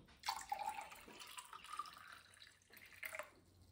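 Water is poured into a glass in a soft, quiet trickle with a few splashy bubbling notes, lasting a few seconds.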